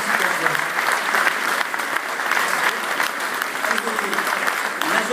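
Loud, dense applause from an audience at a Stars et Métiers event in Avignon in 2012, continuous close clapping with some voices mixed beneath.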